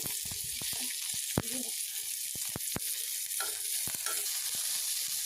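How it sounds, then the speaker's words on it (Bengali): Tengra fish fries in hot mustard oil in a wok, a steady close crackling sizzle with scattered sharp pops and spatters throughout. "কড়াইতে সর্ষের তেল দিয়ে কড়াইটা গরম হয়ে গেলে মাছটা দিয়ে দেবো"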